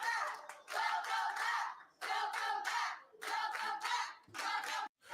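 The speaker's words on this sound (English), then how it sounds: "these are the women all cheering for Charlotte when she won the Rumble." Women backstage at a wrestling Royal Rumble event cheering and yelling in bursts, a crowd of excited voices mixed with clapping, arriving in four loud waves separated by brief pauses.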